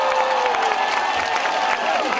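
A crowd applauding and cheering for school principals at the opening ceremony of a school ten-person eleven-legged race, a dense continuous roar over the full short span with voices mixed in.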